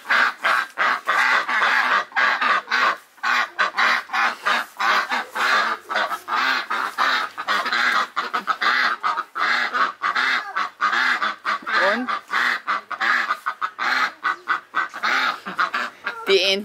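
Ducks quack and honk nonstop, close and loud, in dense overlapping calls with a few brief pauses.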